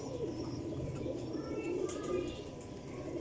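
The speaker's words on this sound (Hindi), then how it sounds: "लो जनाब टैडी कबूतर माशाल्लाह वेखो" Teddy pigeons, part of a golden champion lot, coo in low, rolling murmurs close by, with other birds chirping faintly and a steady background murmur throughout.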